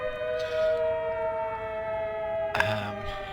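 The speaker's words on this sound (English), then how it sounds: "somebody's doing the defending the police station mission, so we're going to have sirens going all the time" A wailing civil defense siren sounds continuously in the video game The Secret World, a sustained tone with a brief sharp disturbance near the end, fairly loud and without talk.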